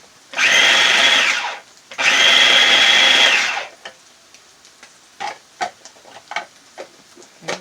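Two long, loud bursts from a food processor chopping garlic, each whirring steadily for over a second with a short gap between, followed by quieter scattered knocks and clatter.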